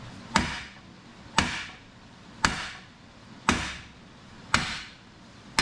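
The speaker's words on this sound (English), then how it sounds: "we're resorting to the hammer" A hammer strikes metal on a mini excavator thumb build, five sharp, evenly spaced blows about a second apart, each ringing briefly before fading, close and loud with no talking.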